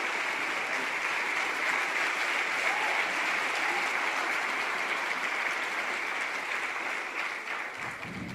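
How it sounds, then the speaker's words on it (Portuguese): Steady, sustained applause from a large church congregation fills the space, loud and even throughout, tapering off slightly at the very end. "Vamos aplaudir a Cristo"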